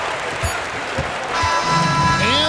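Crowd cheering in the NBA 2K26 basketball game as the Knicks win the Finals against the Spurs, a loud sustained roar of arena cheers and applause with a swelling tone underneath.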